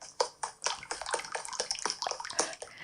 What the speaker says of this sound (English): So then I ran to a river